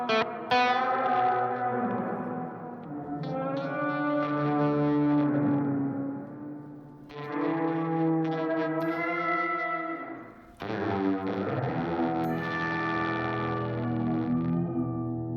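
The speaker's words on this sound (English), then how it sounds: "It is one of my preferred and favorite reverb pedals" An electric guitar played through a Walrus Audio Slo reverb pedal rings out in sustained chords that swell and bloom into long, washy reverb tails, with a brief silence before the final phrase and no talking.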